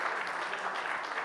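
Audience applause fills a hall at an auto industry awards event in India, a steady dense wash of many hands clapping at moderate volume throughout, with no talk over it.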